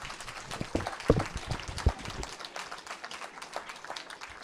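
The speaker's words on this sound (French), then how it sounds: "Je crois qu'on peut les applaudir bien fort aussi pour leur production" Audience applause at a school heritage event in Seine-Maritime, a fairly faint scatter of claps over about two seconds that fades out quickly, with a few louder claps standing out.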